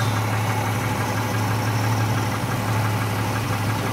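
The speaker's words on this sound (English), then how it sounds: "Turn her on." A car engine idles steadily while running a generator, with a continuous close low hum and a faint rhythmic mechanical vibration and no talk.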